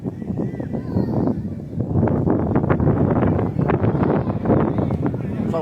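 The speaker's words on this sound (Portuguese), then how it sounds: "tá ventando muito aqui no alto da Vila Pereira" Strong wind on a hilltop at Vila Pereira, beside an amateur football match, buffets the microphone with a constant rough roar, while someone talks over it.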